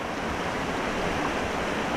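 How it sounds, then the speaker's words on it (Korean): Yongsu Falls on Daeyasan in winter, with plenty of water, pours in a steady, dense roar that fills the whole stretch without a break and has no voices over it. "용수폭포는 겨울인데도 수량이 아주 풍부합니다"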